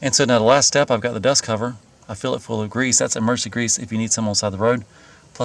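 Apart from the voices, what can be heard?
No everyday noise stands out behind the speech.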